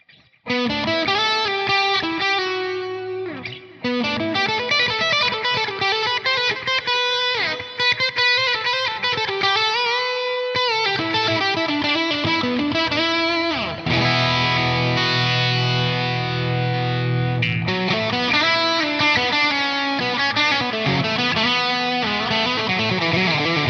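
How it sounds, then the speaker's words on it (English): Electric guitar lead through a Line 6 Helix with heavy reverb and delay, sustained distorted notes ringing out and trailing echoes, loud and continuous throughout, no voices. "When you add some reverb and delay, you get that beautiful modern lead thing."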